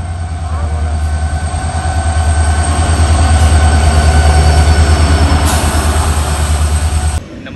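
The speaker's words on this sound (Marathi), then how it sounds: "आता आपली ट्रेन आलेली आहे, तर ही आपली ट्रेन आता आपल्याला रत्नागिरीपर्यंत पोहोचवेल." A train pulls into a railway station bound for Ratnagiri, its loud, close rumble of wheels and engine swelling steadily with faint squeals before the sound drops away abruptly near the end.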